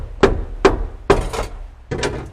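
Hammer striking a flat screwdriver held against the fuel pump of a 2006 Ford Mustang, four sharp metallic taps at uneven intervals, close and fairly loud with brief ringing after each blow.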